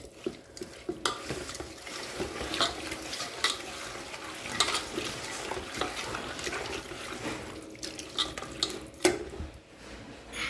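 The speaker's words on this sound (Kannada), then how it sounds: "ಮೊಸರು ಇದನ್ನು ಒಳ್ಳೆ ರೀತಿ ಮಿಕ್ಸ್ ಮಾಡು" Yogurt being stirred into fried onions for Hyderabadi chicken biryani, soft wet scraping and mixing sounds in irregular bursts, close and fairly quiet with faint kitchen clatter.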